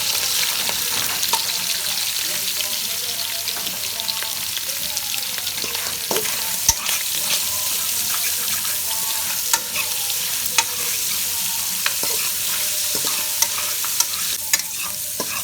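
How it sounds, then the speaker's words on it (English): Corned pork sears in hot oil in a pot, a loud steady sizzle with frequent stirring scrapes and clinks running throughout. "I'm going in with the corned pork. I'm going to get a good burn on each side."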